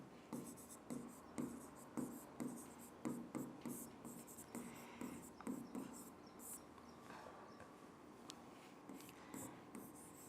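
Pen or chalk writing by hand in rhythmic scratchy strokes, close and fairly quiet, in short bursts with brief pauses and faint background noise.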